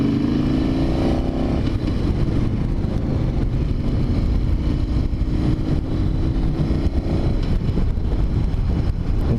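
Harley-Davidson motorcycle engine heard while riding, a loud steady rumble with rising engine pitch and wind noise throughout, close to the rider and continuous.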